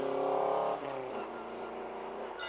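A cartoon rally car speeds along the road, its engine loud and revving at first, then fading slightly as it races on; a voice may be faintly present.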